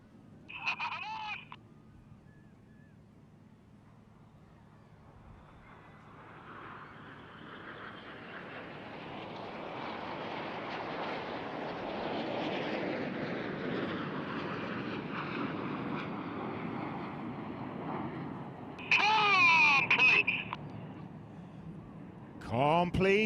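Red Arrows display jets fly a corkscrew manoeuvre at an air festival, a distant jet roar swelling slowly and then fading, with brief voice-like bursts near the start and end.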